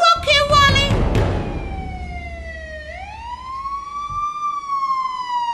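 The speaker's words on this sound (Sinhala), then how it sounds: "ඇම්බියුලන්ස් එක හඳ ඇහෙනකොට" An emergency siren wails up and down and then holds a long sweeping tone, loud and fairly close at first, under a low road rumble.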